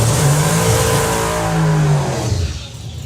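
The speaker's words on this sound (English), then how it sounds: "So Jacqueline Bartlett down there with the dragster" Drag racing dragster engine at the Festival of Power, a loud sustained roar with a pitch that climbs and holds, then fades away as the car pulls off.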